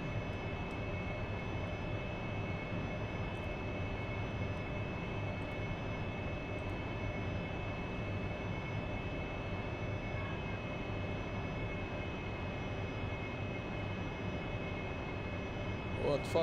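Steady, loud AV-8B Harrier jet engine drone during air-to-air refueling in the DCS flight simulator, a constant whine and roar holding level throughout with no talk.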